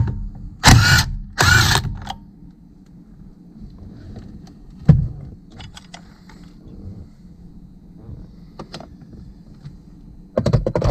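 A DeWalt power tool takes out a steering wheel bolt on a 2010-2014 Mustang in two loud, close, buzzing bursts. Quiet clicks and handling noises follow, and the tool whirs again briefly at the end.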